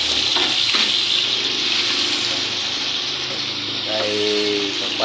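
Tomatoes and eggs fry in a hot pan, a steady loud sizzle with bursts of crackling and a brief scraping stir near the end.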